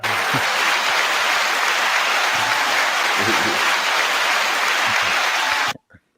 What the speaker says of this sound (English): 9-second applause to Professor Sky.